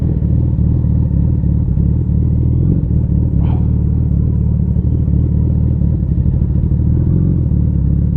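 Suzuki Hayabusa motorcycle with a race exhaust, heard while riding: a loud, steady low engine rumble throughout, with a brief clatter partway through.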